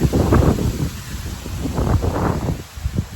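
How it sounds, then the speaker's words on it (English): Strong wind blows outdoors at a nature preserve as a steady, rumbling roar of buffeting gusts against the microphone, loud and close throughout, with no voices. "Big wind."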